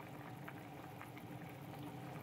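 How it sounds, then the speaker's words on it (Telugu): Pulusu, a tamarind-style stew, boils in a pot with a steady, even bubbling and a soft gurgle throughout, fairly faint and heard alone. "చూసారా బాగా ఉడికిపోతుంది."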